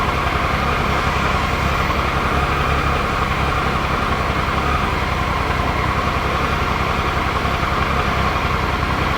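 A Triumph Tiger 800XC three-cylinder motorcycle engine idles steadily and close, its low rhythmic chug uneven in places as it hits and misses, with no speech over it.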